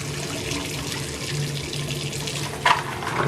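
Tap water running in a sink to rinse stripped plastic Gunpla model parts, a steady close splashing flow with one brief louder splash near the end.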